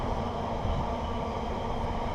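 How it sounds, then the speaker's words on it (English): A long cargo train rumbles past steadily with a dense, continuous low roar and rattle, close by, with no break across the whole stretch. "That is a very long train."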